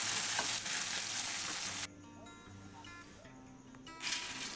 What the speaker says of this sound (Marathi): तेल असं मस्त कडकडू द्यायचं